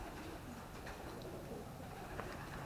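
Pigeons coo faintly inside a grain elevator infested with birds and their young, the soft calls half buried in a steady, hollow background hiss.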